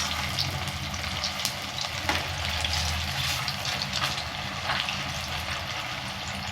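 Sago pakoras fry in a pan of hot oil over raised heat, giving a steady, close sizzle with faint bubbling crackles throughout and no speech.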